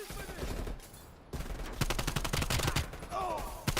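Bursts of rapid gunfire in the video game Black Ops Cold War crackle in quick succession, fairly quiet overall, with a short pause before the shooting resumes and a brief voice-like chirp.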